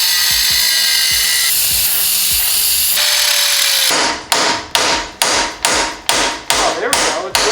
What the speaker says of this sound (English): I've been hammering on the wheel bearing shroud and I can't get it off.